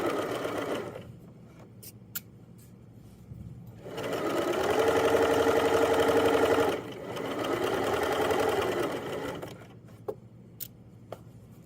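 A sewing machine whirs rapidly in two bursts of stitching a jogger pocket seam, ending with a backstitch, separated by a pause with a few faint clicks and taps, close and steady.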